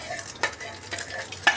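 Egg mixture fries gently in a pan over low heat, with a soft continuous sizzle broken by a few sharp spatula scrapes and clinks.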